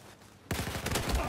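Rapid bursts of video game gunfire from several players at once, with a tank battle under way, break in abruptly after a quiet stretch and continue as dense, overlapping cracks close by.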